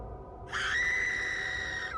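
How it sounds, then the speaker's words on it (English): A woman lets out a single long, loud, high-pitched scream that starts abruptly and holds steady for about a second and a half before cutting off, heard alone over faint low background rumble. "Huimin screams, chest heaving like an animalistic reaction"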